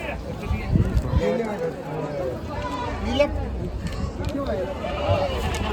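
Goats bleat repeatedly at close range at a large goat and sheep market in Chakan, Maharashtra, wavering calls overlapping with steady talking voices throughout.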